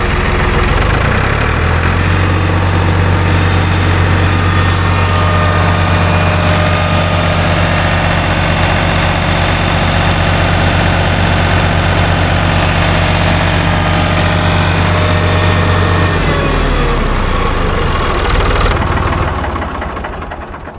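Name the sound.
Ford 3-cylinder diesel tractor engine running wide open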